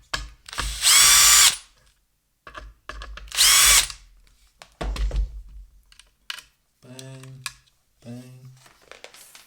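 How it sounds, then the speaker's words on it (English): Screws being taken out of the board of a Bang & Olufsen Beolab 14 subwoofer, two short loud bursts of a powered screwdriver followed by lighter clicks and handling noises. "we just need to remove these 2 screws"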